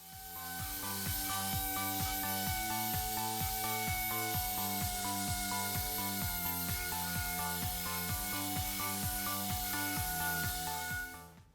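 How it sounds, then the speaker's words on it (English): A random orbit sander runs steadily against an oak cabinet with 120-grit paper, a continuous loud whirring buzz with a rhythmic pulsing texture that holds for the whole stretch. "so I broke out the random orbit sander"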